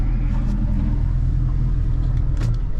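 A Yamaha F200 outboard engine on a 2016 Defiance Admiral boat idles with a loud, steady, deep rumble that stays even throughout and has no talk over it.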